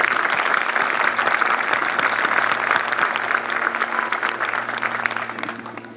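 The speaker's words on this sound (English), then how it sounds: "Please join me in giving them a round of applause." Audience applause at an LAPD recruit police officer graduation ceremony, a broad wash of clapping from a large crowd over a low steady hum, fading slightly near the end.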